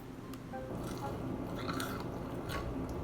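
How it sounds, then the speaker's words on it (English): Burnt roasted onion being bitten and chewed up close in a mukbang, soft wet crunches and squishy mastication over about three quiet seconds. "a burnt onion mukbang"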